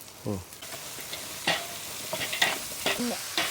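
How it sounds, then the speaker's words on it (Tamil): Soft sizzling of onions frying golden in oil, broken by a few scrapes and clinks of a spatula stirring the pan. "வெங்காயம் பொன்னிறமாகும் பிறகு நாங்கள் தாளிக்கணும்"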